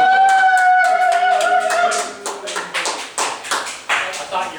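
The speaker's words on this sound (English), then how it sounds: "Give a round of applause, ladies and" Scattered hand clapping from a small audience at a comedy-style live show, loud and close, starting over lingering tones and then breaking into separate uneven claps that thin out.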